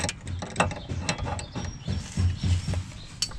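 A ratchet tightens a rear control arm on a Mini Cooper R56, a rapid series of close clicking pawl ticks in short uneven strokes with faint clanks between them.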